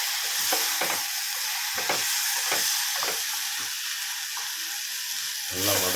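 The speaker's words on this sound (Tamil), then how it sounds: "இப்போ லிவரும் நல்லா வெந்து கொதிச்சு வருது." Mutton liver cooks in a pan with turmeric, ginger-garlic and curry leaves, giving a steady bubbling sizzle broken by soft, irregular popping bursts close by.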